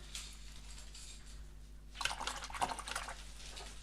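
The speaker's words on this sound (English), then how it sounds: "Now let me clean the brush." A watercolour paintbrush is rinsed in a container of water, giving faint sloshing and dripping that swells into a busier swish near the end against quiet background hum.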